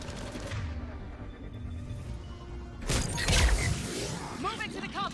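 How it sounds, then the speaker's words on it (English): Sniper rifle gunfire in the Mass Effect 3 video game comes as a heavy, sharp blast with rumble after a stretch of low game noise, followed by quieter clatter, with a voice speaking alongside. "Do you like my sniper rifles?"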